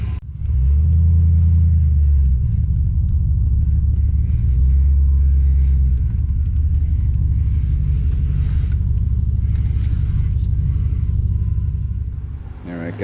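A 2006 Chevrolet Canyon pickup with a swapped 6.0L V8 pulls into a shop, its deep engine rumble loud and close, swelling twice in low throbbing surges before settling into a steady idle, with faint voices near the end.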